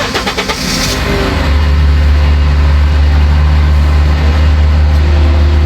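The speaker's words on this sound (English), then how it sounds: "dude started his car and turned the AC on" A car engine cranks with a few stuttering turns, catches, then settles into a loud, steady running drone close by.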